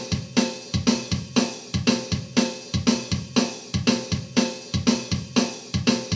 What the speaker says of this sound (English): and it's called Double Punk Drum Set Number 2.